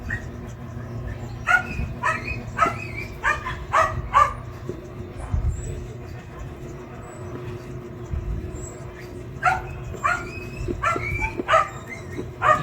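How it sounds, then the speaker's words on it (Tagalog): A dog barks in repeated sharp bursts, some close together and some spaced apart, mid-distance in a room, with someone talking in between. "Ingay ng aso, pasensya na mga boss."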